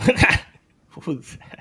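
An English bulldog gives a short, close vocalization, a throaty growl-like whine, followed after a brief pause by a person speaking.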